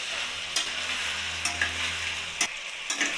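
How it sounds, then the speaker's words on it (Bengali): Chicken cooks in a pan with ground black pepper, cumin and coriander, a constant close sizzle broken by several sharp scrapes of a spatula stirring the meat, with no voices. "এটাকে ও মাংসের সাথে ভালোভাবে কষিয়ে নেব"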